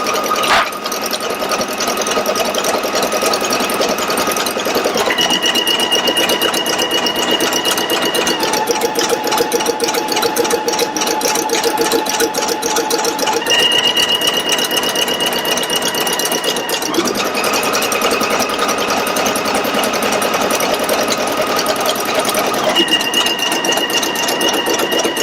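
A Pfaff Creative Icon 2 embroidery sewing machine stitches appliqué fabric in the hoop, a steady loud whirring hum that runs without pause and shifts pitch at intervals as the stitching changes.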